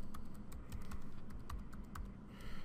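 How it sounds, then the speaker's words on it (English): Rapid keystrokes on a computer keyboard as a password is entered, a steady run of light clicky taps close by with no talking. "now let's see if I typed in that password right"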